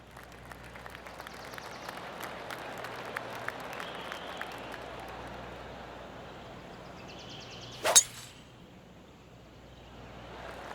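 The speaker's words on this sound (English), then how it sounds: "the crowd is buzzing" A golf course crowd in PGA TOUR 2K25 murmurs softly in the distance with scattered clapping, then a sharp burst of applause and cheering flares briefly before settling back to a low buzz.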